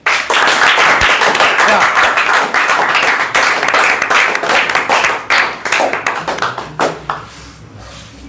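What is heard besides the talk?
hands clapping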